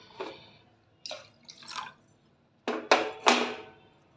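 Water poured into a pan for amla tea with crushed ginger, a few separate splashy pours and drips, close and fairly quiet, with pauses between bursts.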